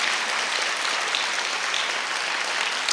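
A church congregation claps warmly, loud and steady, a thick unbroken wash of hands with no pause and nothing else heard over it.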